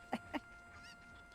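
Two short, sharp chicken clucks in quick succession from the village of Kakariko in The Legend of Zelda: Ocarina of Time, followed by faint chatter over a quiet background.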